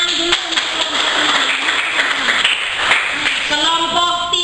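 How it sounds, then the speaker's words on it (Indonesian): Classroom applause for student groups after a presentation, a dense wash of many hands clapping steadily and fairly close, with faint voices mixed in. "tepuk tangan dulu untuk"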